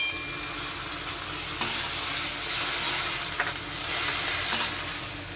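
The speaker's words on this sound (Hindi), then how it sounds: "ये मंगरौरी डाल के फ्राई कर लेंगे।" Steady sizzling of lentil dumplings frying in spiced masala, with a few soft stirring clinks and scrapes; no one is talking.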